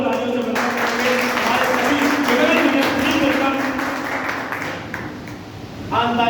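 Audience applause at an event honoring a guest: a dense, sustained wash of clapping that swells and holds, with a voice briefly audible over it near the end.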